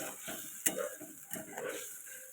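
Mustard paste mixed with water is stirred in a pan, with soft scraping strokes and a few light utensil taps over a faint, steady hiss.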